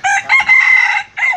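A single short, high-pitched crow from a bantam rooster crossed with red junglefowl, close by, a quick broken call ending in a brief final note.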